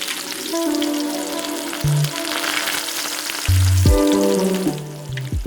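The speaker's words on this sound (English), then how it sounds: "Keep frying the mushrooms for about a minute." Mushrooms fry in about a tablespoon of vegetable oil in a hot pan, giving a constant loud sizzle that swells midway, with soft background music underneath.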